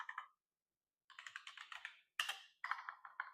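Fast bursts of typing on a computer keyboard sound up close, clustered clicks broken by a short pause and quiet gaps.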